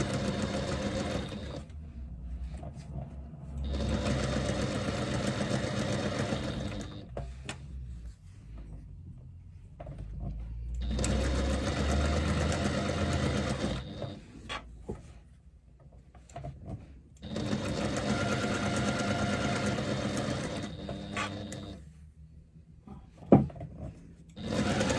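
A sewing machine stitches a long run of fabric piping, its needle motor whirring loudly and steadily in several sustained bursts separated by short quiet pauses, with a faint thump near the end.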